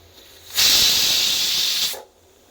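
A pressure cooker whistle lets off steam while ivy gourd curry cooks, a single loud hissing blast lasting about a second and a half that starts suddenly and cuts off, with quiet kitchen background around it.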